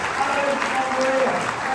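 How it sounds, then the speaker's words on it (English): A crowd claps steadily for guests of a live stage show at the National Motorcycle Museum, the applause a continuous, even patter with a faint voice blended in. "please give these guys a big round of applause"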